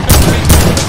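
Shotgun fire in the video game Fortnite: a loud, dense burst of gunfire with several sharp blasts close together in about a second.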